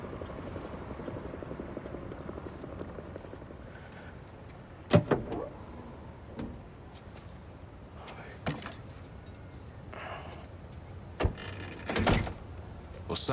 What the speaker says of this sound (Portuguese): Toma, pega e abre o porta-malas.